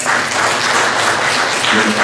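An audience at a scholarly presentation for Chungju's 2021 intangible heritage city applauds a committee member, a dense, steady wash of many hands clapping that stays loud and even throughout with no voices on top.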